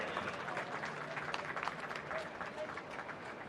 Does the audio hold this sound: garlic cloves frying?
no